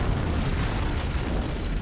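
Deep rumbling blast of an antimatter charge in Halo: Combat Evolved, a dense, sustained low boom that fills the short moment with roaring, rolling energy and no speech.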